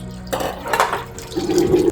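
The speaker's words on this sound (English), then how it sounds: "fill a pot with water and bring it to a boil" A cooking pot is filled with water from a tap, starting with a sudden splash and settling into a steady pouring rush with a faint metallic ring.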